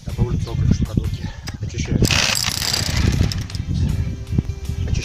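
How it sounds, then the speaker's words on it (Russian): A rotary hammer drill chips away at the plinth of a wooden frame house, knocking off old soil, crumbling brick and concrete. Dense, rapid hammering rattles steadily and up close for the whole stretch, with a harsher burst midway. "Таким макаром с помощью перфоратора готовлю цоколь штукатурки."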